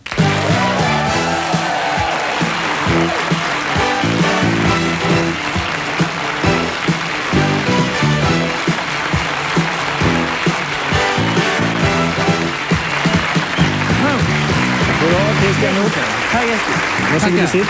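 A late-night television studio audience applauds a famous musician's entrance while music with a strong beat plays, the clapping blending into the band for the full stretch.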